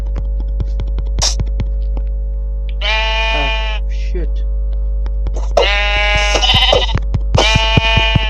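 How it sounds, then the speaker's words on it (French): Sheep bleating in the game Minecraft, several distinct bleats from more than one animal over a steady low hum, with a few clicks and taps between them. "il y a 3 moutons, c'est pas mal."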